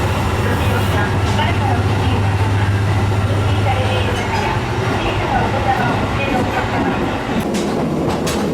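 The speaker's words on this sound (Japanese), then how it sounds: "列車のエンジン音からも、それは伝わってくるのではないでしょうか。" Diesel railcar engine drone on a JR Central Meisho Line local train, likely a KiHa 40, with a continuous loud onboard rumble and wheel clatter throughout and a voice speaking over it.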